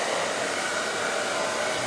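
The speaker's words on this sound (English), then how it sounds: "we're just using it to softly dry the hair into place." Hair dryer with a soft diffuser-style attachment drying a woman's hair during a haircut: a steady, loud, continuous airy whoosh with no talking over it.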